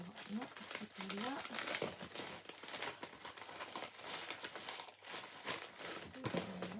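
Paper envelopes are rummaged through for small craft labels, with continuous close crinkling, rustling and tearing-like handling throughout, while someone speaks intermittently.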